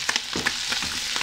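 Cucumbers hitting a hot pan with already-browned kidneys, giving a steady close sizzle broken by a few soft stirring scrapes and taps, no voices.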